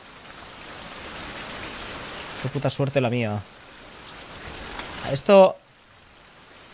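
Steady rain falls in the survival video game Survival: Fountain of Youth, a constant soft hiss with someone briefly speaking over it twice.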